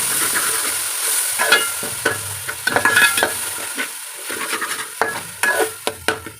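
Ground biryani paste and masala sizzle in a pan for Dindigul-style chicken biryani while a spoon stirs them. A steady frying hiss runs under repeated close scraping and clanking strokes, with no talking.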